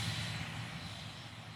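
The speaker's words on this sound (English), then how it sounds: "Very distinct sound of it landing." A helicopter landing in the military strategy game WARNO, giving a soft, steady engine drone and rotor wash that holds at an even, moderate level without any talking.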